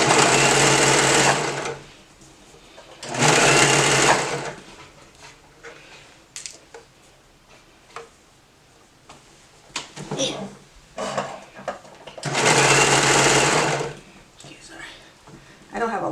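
A serger sewing machine running in short bursts, three loud buzzing runs of about one to two seconds each, separated by quiet handling noises and fabric rustle, with a dog faintly in the room.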